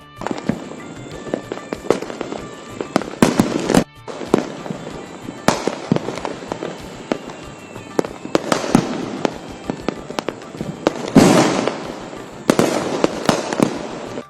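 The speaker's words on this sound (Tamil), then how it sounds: "இரவை பகலாக்கும் விதமாக வானவெடிகள் சிதறி ஒளிர்ந்தன" Fireworks over Coimbatore burst repeatedly, sharp cracks and booms crowding together over a constant crackling roar, loud and continuous throughout.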